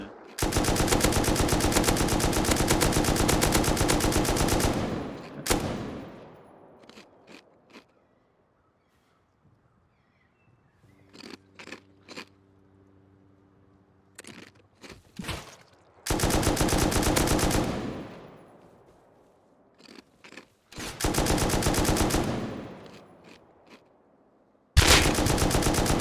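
Bursts of video game gunfire in a survival shooter, loud rapid automatic volleys of several seconds each, separated by quieter stretches with scattered single shots and faint background game sounds.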